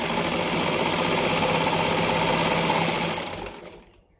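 A sewing machine runs a continuous double stitch through a soft, slippery blouse lining, its steady rapid whirr and knock filling the room before slowing and stopping near the end.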